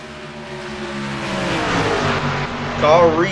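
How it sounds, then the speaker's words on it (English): A pack of race cars gets underway at the green flag of the Tricky Triangle 400 at Pocono Raceway, the engines' roar swelling steadily and rising in pitch as the cars accelerate. "argan leads the field to the green flag, and the Tricky Triangle 400 is underway."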